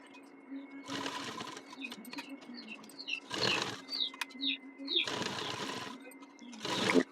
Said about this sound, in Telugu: ఇప్పుడు మొత్తానికి కట్ వర్క్ షేప్కి స్టిచ్ చేస్తున్నాం